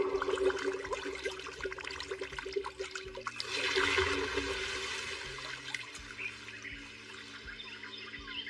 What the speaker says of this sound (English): Water, come forth.